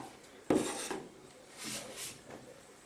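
A scraper drags down wet adhesive on a plaster cornice, giving a brief rasping scrape followed by softer smearing rubs, close and quiet with no talking.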